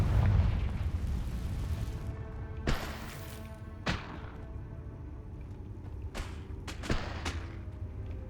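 Confringo explosive spell blasts in Hogwarts Legacy: a heavy rumbling detonation opens, followed by four sharp bursts spaced a second or more apart over a low, lingering roar.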